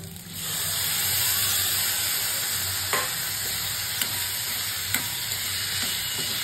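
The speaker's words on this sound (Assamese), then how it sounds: "আৰু এতিয়া এইখিনি দি দিওঁ লিভাৰ" Chicken liver hits a hot pan and fries with a loud, steady hiss that swells quickly and holds, broken by a few sharp utensil clicks against the pan, with no voices.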